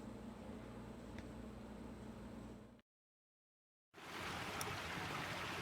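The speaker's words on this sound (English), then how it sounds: "you can hear the babbling brook and see the water down there" Watkins Creek babbles steadily nearby on a spring farm walk, a continuous wash of flowing water that drops to silence briefly before returning fuller.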